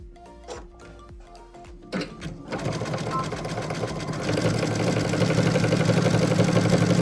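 A sewing machine stitches fabric for a tissue box cover, a few short starts and then fast, steady, loud mechanical chatter that builds and runs continuously close by.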